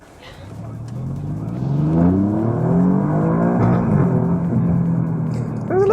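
Alfa Romeo Giulia Quadrifoglio in race mode accelerating hard from a stoplight, engine note climbing and swelling loudly through the gears, heard from inside the car with road noise.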